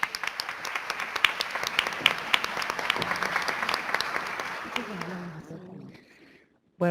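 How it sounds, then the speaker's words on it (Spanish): A legislative chamber audience applauds to welcome the first vice president of the Buenos Aires city legislature; dense, even clapping from a crowd runs for about five seconds, then thins and fades before a voice begins. "a quien les pido recibamos con un aplauso"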